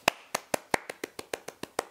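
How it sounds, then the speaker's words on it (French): A single person claps hands about ten times at an even, brisk pace, each clap crisp and close, with quiet gaps between and no other sound. "Je crois que c'est la première fois que j'applaudis là"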